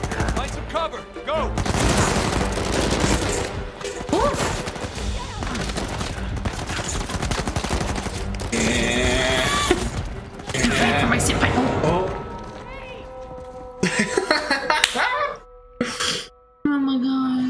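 A heavy exchange of gunfire in Uncharted 4, including shotgun blasts, runs for most of the stretch. Loud overlapping shots sit under shouting and vocal strain, then the fire breaks off into a few separate bursts near the end.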